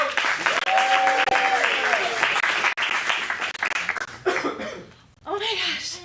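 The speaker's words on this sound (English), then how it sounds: "One last round of applause for Angry Coach." An adult audience at an acting studio script showcase in Phoenix applauds warmly for several seconds, then the clapping fades as people start talking and exclaiming nearby.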